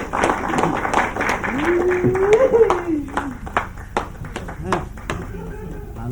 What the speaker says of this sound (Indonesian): Kita berikan tepuk tangan untuk Petu Clara.